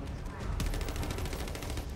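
A rapid burst of gunfire erupts while shooting a monster in the video game The First Descendant, a dense rattling volley that starts abruptly and continues steadily over background game noise.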